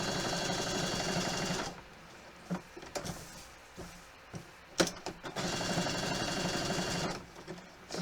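Sewing machine stitching pieces onto a cape, running in a steady rapid buzz, pausing briefly with a few clicks and taps, then starting up again at a moderate level.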